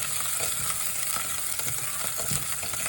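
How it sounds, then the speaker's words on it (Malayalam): Small shallots, ginger, green chilli and curry leaves frying in a pan for a Kerala prawn coconut curry, with a continuous bright sizzle and soft scraping pulses as they are stirred, close and steady with no talking. "ഇത് നന്നായി ഉള്ളി നന്നായി വഴറ്റുന്ന വരെ ഇളക്കി കൊടുത്തുകൊണ്ടിരിക്കണം കേട്ടോ."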